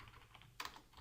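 Code is typed on a computer keyboard, a short burst of faint, quick key clicks with one sharper tap partway through.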